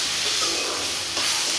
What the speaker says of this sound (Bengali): কড়াইতে একটু তেল দিয়ে তার মধ্যে লবণ, হলুদ দিয়েছি আর এই কেটে রাখা কুচি করা মশলাগুলো দিয়ে দিচ্ছি। একটু হালকা ভেজে নিতে হবে